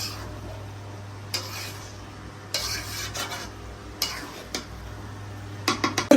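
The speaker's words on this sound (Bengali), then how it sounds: "এখন বিরিয়ানিতে আমরা কয়েকটা কাঁচা মরিচ দিয়ে দিব, একটু নাড়াচাড়া করব।" A spoon stirs chicken biryani with green chillies in a pot, giving intermittent scrapes and metallic clanks over a low, soft sizzle, with a sharper knock at the end.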